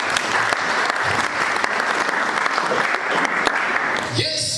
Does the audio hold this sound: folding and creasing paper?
no